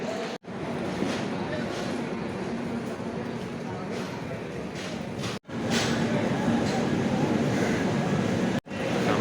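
A passenger train bound from Banaras to Rameswaram rolls past a station platform, a steady, loud, dense roar of wheels and rushing air that briefly cuts out twice.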